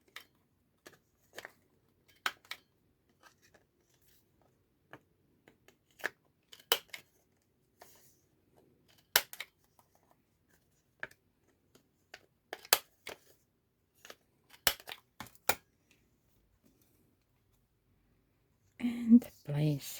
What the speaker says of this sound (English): Cut the corners, right?